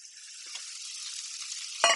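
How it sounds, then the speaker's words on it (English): Shimeji mushrooms drop into a hot pan and start sizzling, a steady soft hiss with a brief stir near the start and a sharper clatter toward the end, no voices. "So the mushrooms are now going to go in the pan."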